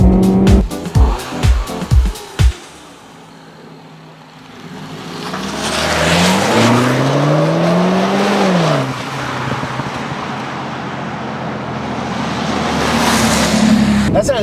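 2013 MINI Cooper S Paceman with a turbocharged 1.6-liter four-cylinder, a few sharp clicks, then the engine note climbing through gears from inside the car, rising and falling in pitch, loud and steady.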